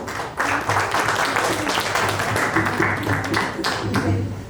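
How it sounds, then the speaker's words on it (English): Audience at a Constitution of India quiz event in Goa giving a round of applause, a steady dense wash of clapping lasting the whole few seconds, close and fairly loud with a faint voice underneath. "Could we have a round of applause for them?"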